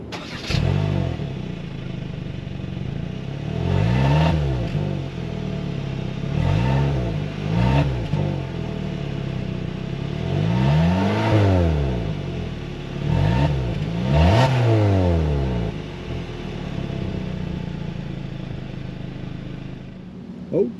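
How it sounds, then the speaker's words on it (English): A 2026 Kia Sportage SX Prestige engine is revved at the tailpipes, loud and close, with repeated throttle blips that swell and fall back to idle several times over about twenty seconds. "let's take a listen to this engine at the tailpipes."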